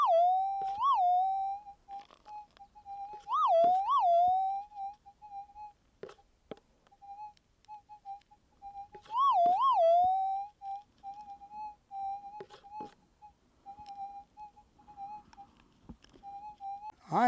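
Steady high electronic tone from a metal detector, broken by several crisp rising-and-falling warbling chirps as it passes over a gold target, with faint scraping in between.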